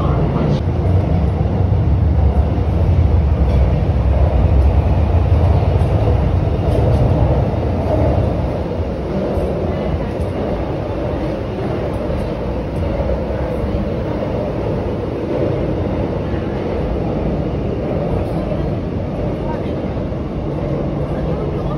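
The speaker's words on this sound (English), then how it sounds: "right now, line 15, riding the metro, but this metro is a driverless metro system" Steady low rumble of a driverless Shanghai Metro Line 15 train in motion, heard from inside the carriage, loud and continuous with no talking.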